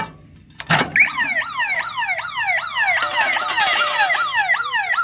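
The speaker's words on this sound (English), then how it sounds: "so what we've done is just quickly enable the alarm system on it." The alarm siren of a Centurion D5 Evo smart gate motor at a residential gate starts after a sharp click, then wails in a fast repeating up-and-down sweep, loud and close, with a second overlapping tone joining partway.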